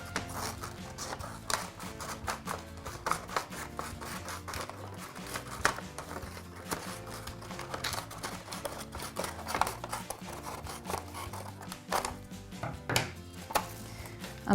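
Scissors cutting away the bottom half of a lion mask's muzzle, a fast run of crisp, close snips and crunches that repeats steadily throughout, with no talk.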